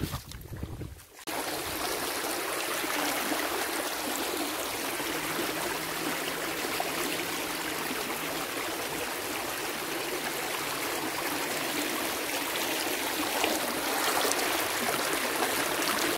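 A hidden Konkan stream flows steadily toward a waterfall, a continuous close rushing and trickling of water that holds constant after a brief quiet moment at the start, with no talking.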